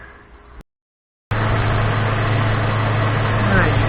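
A Toyota FJ Cruiser engine idles during coolant and radiator work, a steady low rumble with a constant hum that starts abruptly after a brief silent gap, preceded by faint background noise.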